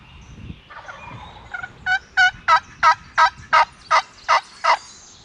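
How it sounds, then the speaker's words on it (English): A wild turkey gobbler gobbles from roughly a hundred yards off in open hunting country, a run of about nine loud, evenly spaced rattling gobble bursts standing alone over faint background. "he's about to gobble right now."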